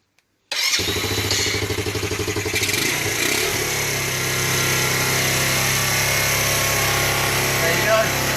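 A Sinnis Max 125 (Qingqi QM125) motorbike fires and runs on choke, first with a rapid, uneven chuffing idle and then settling into a loud, continuous, rough running note close by.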